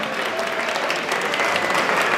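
A crowd at a Liberty Fest event in New York applauds steadily, with dense and even clapping throughout a brief stretch and no voices standing out above it.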